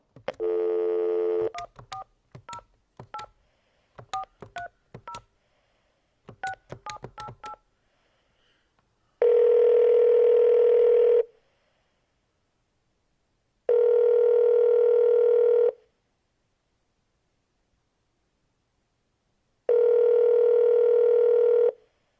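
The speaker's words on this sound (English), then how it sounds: "Let's go ahead and get Randy on the phone." Telephone dialing placed to call a guest on a sports talk show: a quick run of DTMF keypad tones in uneven clusters, followed by three long evenly spaced ringback tones separated by silence, clear and alone.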